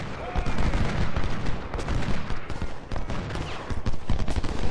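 Dense, continuous crackle of skirmishers' musket fire from a Civil War battle in the Ultimate General strategy game, a steady rolling volley with scattered sharper reports and no clear pauses.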